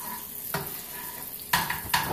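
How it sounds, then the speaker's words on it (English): Food stirred in a sizzling frying pan: a steady frying hiss with a few scraping strokes of a utensil against the pan, close and clear. "you're going to give that a good stir"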